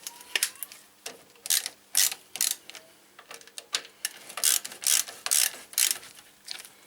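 Ratchet fitted with a 17mm socket turning bolts on the brakes of a 2001-2005 Toyota RAV4, giving repeated bursts of close, crisp clicking in an uneven stop-start rhythm with short pauses between strokes.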